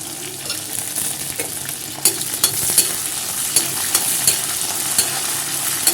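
Green chili, pepper, cumin, cashews, curry leaves and ginger sautéing in a pan for varagu rice pongal, a steady hiss of frying with periodic scraping stirs that grow more frequent, no one talking.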